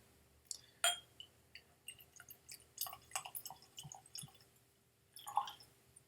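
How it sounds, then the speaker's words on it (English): Scotch whisky from an advent calendar sample bottle is poured into a Glencairn glass, a quiet, close trickle with soft drips and a few light glass clinks. "Gonna open the cap and we're gonna pour it into a nice Glencairn here."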